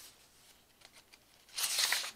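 Tea- and coffee-stained paper pages of a handmade Christmas journal being flipped open: faint soft rustles and crinkles, then one brief, close papery swish near the end, with no talking.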